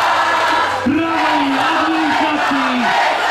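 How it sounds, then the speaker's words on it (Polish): Large crowd at a university faculty battle event in Olsztyn cheering and roaring, with one loud voice shouting over the continuous dense crowd noise. "Tak jest, szanowni, wielkie brawa za Krzysztofa."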